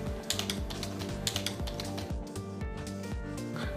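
Typing on a computer keyboard into a Word document: a rapid, uneven run of close, crisp keystrokes over a steady background hum.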